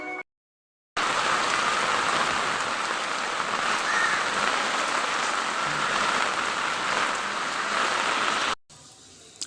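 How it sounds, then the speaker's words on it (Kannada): Heavy morning rain pours in a steady, dense roar for about eight seconds, loud and even throughout, with no voices over it. "ಇವತ್ತು ಬೆಳಗ್ಗೆ ಜೋರು ಮಳೆ ಬರ್ತಿದ್ದಿತ್ತು"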